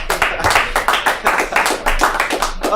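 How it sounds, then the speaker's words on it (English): Comedy club audience applause, close and fairly loud, made of clearly separate rhythmic hand claps from a small crowd that pulse steadily throughout. "Give a round of applause for Connor King."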